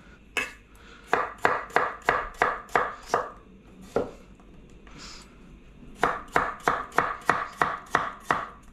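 Knife chops a potato on a cutting board in quick rhythmic bursts of sharp thuds, pausing briefly, then another fast run of chops. Close and fairly loud.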